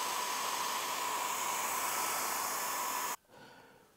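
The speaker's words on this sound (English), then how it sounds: "it's dried off a bit, or quite a lot with a little hairdryer" A hairdryer drying watercolour paint blows with a steady loud whoosh, then switches off abruptly near the end, leaving a softer hiss.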